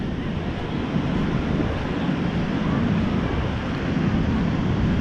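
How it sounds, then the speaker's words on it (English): Rough, angry ocean surf with waves churning against strong wind buffeting the microphone, a loud, continuous roar with slow surges and no pauses. "the angry ocean is angry today"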